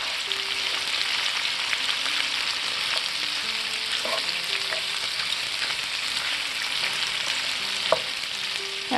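Sausage and bell peppers sizzle steadily in a pan over medium-low heat, with a dense constant frying hiss, a few soft scraping stirs and small pops, no talking.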